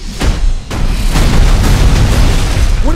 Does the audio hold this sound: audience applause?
no